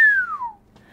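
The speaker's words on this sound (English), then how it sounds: "He glanced at Helene and whistled." A man gives a single sharp whistle that slides steadily downward in pitch over about half a second, clear and close, followed by a faint brief sound and quiet.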